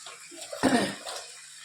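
A short, loud sizzle bursts as fresh greens drop into hot oil with chopped green chilies and green garlic, then settles into a softer frying hiss.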